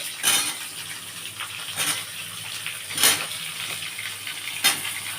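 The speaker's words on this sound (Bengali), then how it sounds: "এইবারে আমি কুমড়োগুলো দিয়ে দিচ্ছি।" Pumpkin pieces tumble into a cooking pot of chapor ghonto already holding potol, giving four soft clattering drops spaced a second or so apart over a steady low sizzle, close and moderately loud with no talking.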